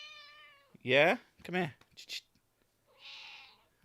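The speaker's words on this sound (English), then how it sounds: "I don't know if you can hear that, but she is meowing" A pet cat meows loudly in several distinct, harmonic cries close to the microphone, with a person speaking briefly between them and a final drawn-out meow near the end.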